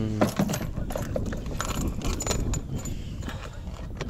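A small bunch of keys for a Yamaha TDM 850 motorcycle, including pannier, top case and spare ignition keys, jangles close up in a hand, with metallic clinks and rattles running throughout over faint background noise.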